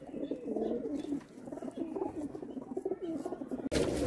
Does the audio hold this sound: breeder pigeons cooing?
yes